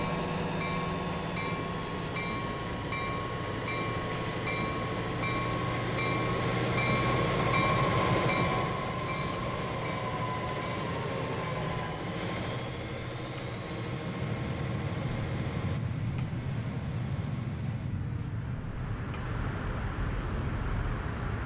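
Trams running in the city-building game Transport Fever 2, a steady rail rumble and hum with faint clicking over wheels and a sustained tonal whine, continuous and moderately loud with no talk.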